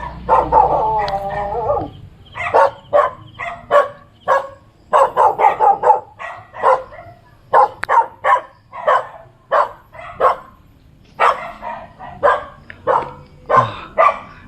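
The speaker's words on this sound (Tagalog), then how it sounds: "Actually, may aso." A dog barks repeatedly in quick bursts nearby, with a whining yelp at the start and brief pauses between barks.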